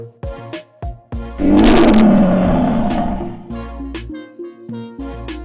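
A cartoon lion in a jungle lets out one long, loud roar that swells and holds for about two seconds, framed by short animated sound effects and music stabs before and after.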